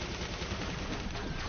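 Rapid automatic gunfire shooting at minions in the video game Battleborn, a dense and continuous burst of loud shots with no pauses.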